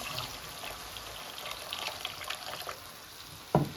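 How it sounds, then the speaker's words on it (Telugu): Tamarind broth pours quietly into a pan with a low, steady sizzling rush, ending in a brief clunk. "ఇప్పుడు పులుసు పోసేసుకున్నాం"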